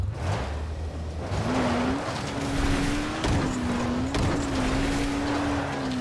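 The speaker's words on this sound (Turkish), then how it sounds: "araba kayıyor" A car skids during a race in the zombie video game Dying Light, its steady engine drone rising slightly in pitch over constant rough road and tire noise, loud and close, with no talking.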